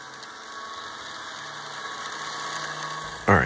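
DCC model locomotives run at full throttle on a model railroad layout, producing a steady, faint motor hum with a thin high whine that holds level throughout, then ends in a brief loud bump.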